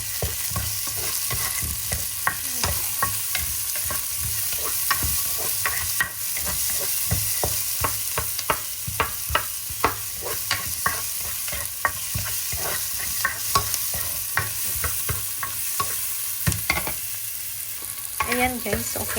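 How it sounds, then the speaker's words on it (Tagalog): Onions sizzle steadily in a hot pan while a utensil stirs and scrapes through them, making frequent irregular clicks and scrapes over constant frying hiss, with no talking. "lagay na natin yung onion guys"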